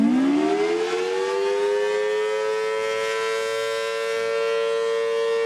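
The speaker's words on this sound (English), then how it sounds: "Here's what a dual tone siren sounds like." A dual-tone civil defense siren winds up from low to a sustained, loud wail of two blended pitches, holding steady for several seconds on its own.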